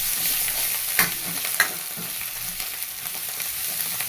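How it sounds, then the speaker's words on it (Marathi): Ginger-garlic paste with spices sautéing in a pan for a spiced sprouted moth bean curry, a steady close hiss with a couple of sharp scrape and stir clicks, no talking. "त्याच्यातच आपण आला लसणाची पेस्ट पण टाकून घेऊया चांगलं मस्त त्याला परतून घ्यायचं"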